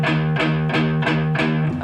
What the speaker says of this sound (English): using the palm of your hand to gently touch the strings, just enough to mute the note